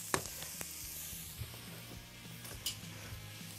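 Onions sizzling gently in a pan on a studio kitchen stove, a soft steady fry with a few faint clinks of utensils against the pan, heard alone at a low level.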